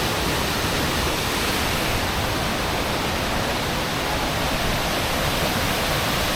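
Kuang Si Waterfalls roaring steadily, a dense, loud, unbroken rush of falling water that fills the whole scene with no pause or change.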